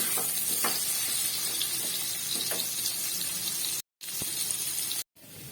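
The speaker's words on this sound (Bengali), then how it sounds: "আলুগুলোকে একটু লাল লাল করে ভেজে নেবো" Salted potatoes frying in hot oil for a cauliflower fish curry, a steady dense sizzle with faint scraping stirs, broken twice by brief total silences near the end.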